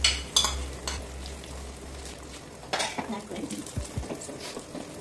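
Beaten egg hits a hot wok and sizzles softly while metal utensils clink and scrape against the pan in a few sharp bursts.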